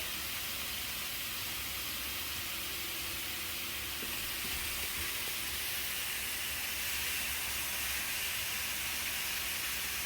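Pork chops searing in a hot pan, a continuous loud, even hiss and sizzle that holds steady and swells slightly toward the end, with no talking over it.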